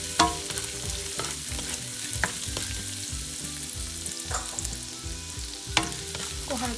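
Crushed garlic and crushed ginger sauté lightly in a hot pan for chicken Manchurian curry, giving a steady close sizzle with scattered stirring scrapes over a soft musical background.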